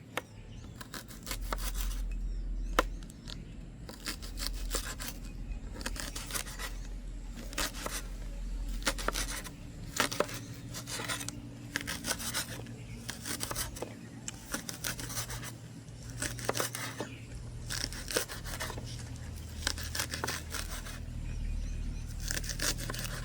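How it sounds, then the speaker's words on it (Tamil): Onion stalks are chopped into small pieces for onion flower vada, a steady run of quick, crisp cutting strokes close by with soft scraping between them. "அப்போ இதை நாங்கள் சின்னனாக வெட்டுவோம். நல்ல சின்னனாக வெட்ட வேணும்."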